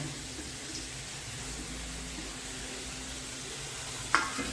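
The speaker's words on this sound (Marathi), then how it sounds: "तो सुद्धा आता छान परतून घेऊ बारीक गॅसवरती" Ground masala sautéing with brinjal on a low flame for kharat vange, a soft even sizzle running throughout, ending with a single brief clink near the end.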